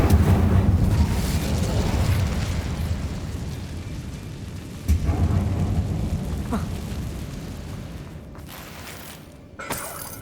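The Incendio fire spell in Hogwarts Legacy lets out a loud rumbling whoosh that fades slowly, with a sharp burst partway through and another smaller pop near the end, inside a mine.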